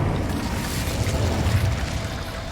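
Incendio fire spell in Hogwarts Legacy on PS5, a game: a steady, low, roaring rumble of flames, moderately loud and unbroken, with no speech.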